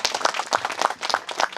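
Audience applause at a centenary Kali Puja celebration, a brief burst of dense, lively clapping from a crowd, close and steady with no talk over it.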